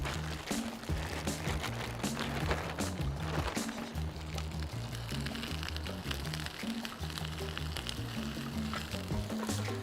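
Sprouts, red onions, parsnips and carrots tossed in oil and herbs begin frying in a pan, a soft continuous sizzle running beneath louder stepped background music throughout.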